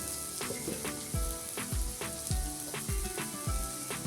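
Sliced onions sauté with chilli powder in oil for a Kerala-style mushroom roast, a steady soft sizzle broken by regular low spatula scrapes roughly every half second, fairly quiet and with no talking.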